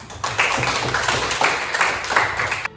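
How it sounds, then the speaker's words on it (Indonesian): Classroom applause from students for a classmate's answer, a steady burst of many hands clapping close by for nearly three seconds before cutting off. "Berikan aplaus untuk teman kalian."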